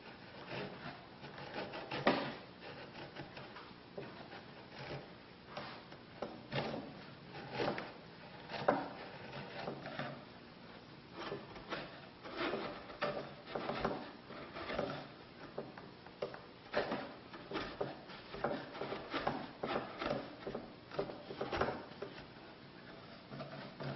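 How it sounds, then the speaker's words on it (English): A sharp chisel pares down a proud, hardened epoxy repair, giving a long run of quiet, close scraping and shaving strokes with a steady, uneven rhythm and no voices. "so I'll trim that off with a sharp chisel"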